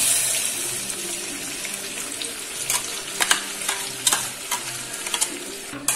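A ground masala paste with cardamom and cinnamon fries in a pan for paneer butter masala, with a constant wet hiss and sizzle and intermittent spatula scrapes and taps close by, no voices.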